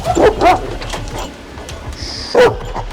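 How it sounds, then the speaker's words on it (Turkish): A large Anatolian shepherd dog barks a few times nearby, two quick barks and then one more after a pause, over low background rumble. "Anadolu çoban köpeklerinden bir tanesi"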